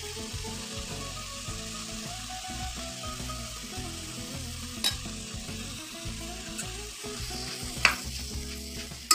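Tomato curry with turmeric, chili powder and salt, simmering for a beans curry and stirred in a pan. A steady low sizzle runs throughout, broken by occasional light utensil clicks, close up with no voices.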